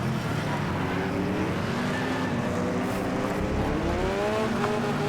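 Race car engines roaring steadily with rising and falling pitch in the Wreckfest racing game, the revving continuous and loud throughout, with no talk over it.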